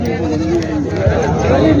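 An Osmanabadi goat bleats briefly at the busy Vasmat goat market in Maharashtra, heard close over a background of murmuring voices and crowd noise.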